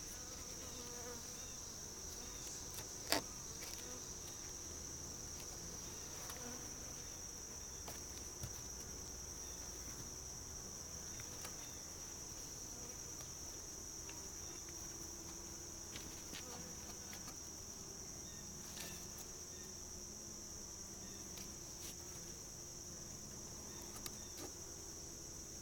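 A steady, high-pitched buzz of many bees at a hive droning continuously, with a few faint knocks and handling noises as the inner cover is handled.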